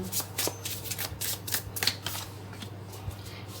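Tarot cards are shuffled for a reading, producing a close, rapid run of crisp riffling and flapping bursts in an uneven rhythm over a faint low hum, with no voice heard.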